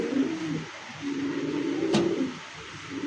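Satin pigeons, a black-lace pair, coo in low rolling murmurs that run steadily through the moment, close and moderately loud, with one brief sharp click partway in.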